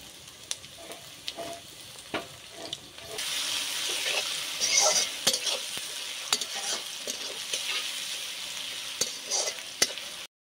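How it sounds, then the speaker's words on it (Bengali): Crushed garlic sizzles in hot oil with already-fried onions for a mutton curry, a steady close frying hiss with occasional stirring scrapes, growing busier and louder partway through. "পেঁয়াজ ভাজা হয়ে গেছে, এবার রসুন থেঁতোগুলো দিয়ে দিচ্ছি"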